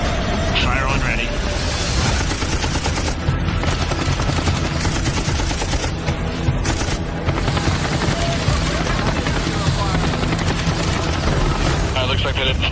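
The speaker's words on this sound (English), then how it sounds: "Looks like they didn't stop on the first set of warning shots" Warning shots fired from a helicopter at a Somali pirate boat, rapid gunfire bursts over constant loud rotor and engine roar, with radio-style voices talking over the noise.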